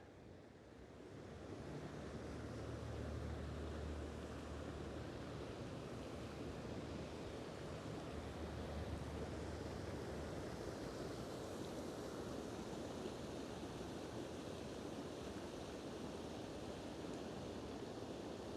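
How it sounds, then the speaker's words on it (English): Water fountains on the Las Vegas Strip in the morning give a steady, even rush of falling water heard from a distance, with a low rumble beneath and no voices. "just listening to the water fountains"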